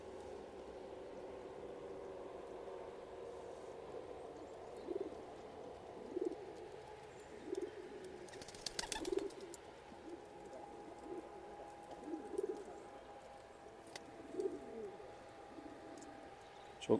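Pigeons of fine breeds coo softly in a loft, low repeated calls scattered across the stretch, faint and fairly near with a few small rustles and knocks between them.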